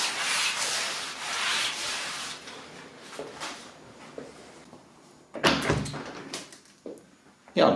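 Newspaper rubbed and wiped across the outside of a window pane after a vinegar wash, producing a close, steady scrubbing swish for a few seconds, then a pause and several sharper bursts of friction and soft knocks near the end.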